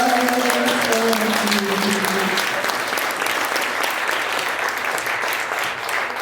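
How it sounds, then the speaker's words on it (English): Audience applause at an album launch, a dense, steady roar of clapping from a close crowd that carries on throughout, with a sustained musical tone fading out in the first couple of seconds. "Big round of applause."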